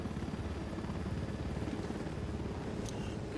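Helicopter in the Ghost Recon Wildlands video game, its rotor thumping in a steady, loud, continuous drone close by with no one talking.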